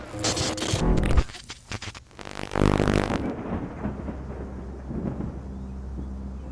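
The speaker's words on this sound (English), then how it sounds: "There's a storm coming" Heavy thunder from an approaching storm cracks and booms in loud broadband bursts during the first seconds, then fades into a low, steady rumble and hiss.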